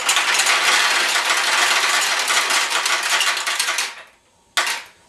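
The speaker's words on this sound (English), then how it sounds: "So I was going to move them out of the way, but then they actually started to roll." Steel pachinko balls rattle and clatter out of the tray of a Sanyo pachinko machine in a dense, continuous metallic stream for about four seconds, then stop, followed by one short final burst.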